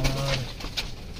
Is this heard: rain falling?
no